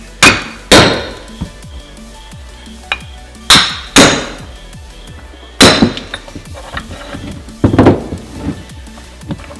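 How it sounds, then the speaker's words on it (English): Loud metal hammer strikes on a blown Turbonetics T3T4 turbocharger ring out one at a time at irregular intervals, with clinks and small knocks between the blows. "But you will need a hammer for this."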